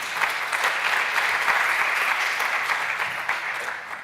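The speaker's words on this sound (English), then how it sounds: "big applause, they got the gold label." An audience at an innovation awards ceremony gives loud, sustained applause, a thick wash of many clapping hands that holds steady before tapering slightly at the end.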